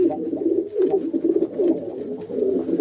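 A pet racing pigeon coos repeatedly at close range, soft throaty rolling calls in a loose rhythm, each phrase rising and falling, with faint background hiss and no speech.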